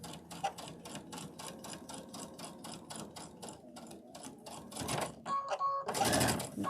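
A sewing machine stitches a quilted sewing-room door banner in rapid mechanical bursts, near and steady, followed by a short whirring pause and a louder clattering run at the end.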